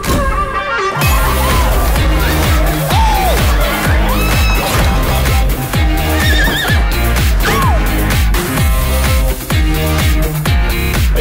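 A racehorse neighs loudly several times over a dense, swelling orchestral film score that plays continuously, the whinnies rising and falling within the music.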